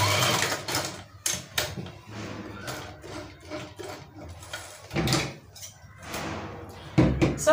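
A sewing machine hems the sleeve of a kaftan dress in short, irregular bursts of stitching, broken up by clicks and handling knocks as the fabric is repositioned.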